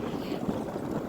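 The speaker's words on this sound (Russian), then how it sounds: "Ну, ветер дует в лицо." A headwind buffets the microphone in low, gusty rumbles while cycling through a forest, a steady rushing noise with no voices.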